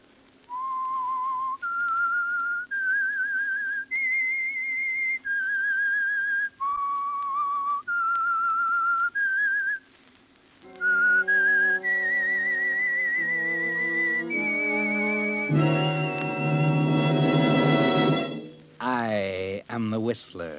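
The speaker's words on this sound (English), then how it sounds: "That whistle is your signal for the Signal Oil Program" A person whistles a slow, eerie melody of clear sustained notes as the signature signal of The Whistler radio mystery show, then orchestral music swells in with a rising, wavering finish.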